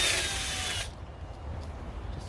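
A power drill whirs briefly at high speed while pre-drilling a screw hole in an aluminum cabinet frame inside a van, then winds down to a low rumble.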